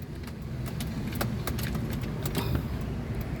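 Keys jangle close by inside a Honda Fit during a final start-up test after a general engine overhaul for knocking, with a few bright metallic clinks over a steady low hum.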